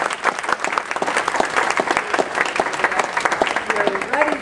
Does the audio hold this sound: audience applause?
yes